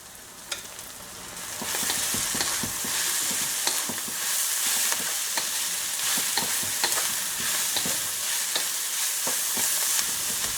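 Sliced carrots sizzle in a hot oiled pan with steady, close frying hiss, broken by repeated scrapes and clicks of stirring throughout.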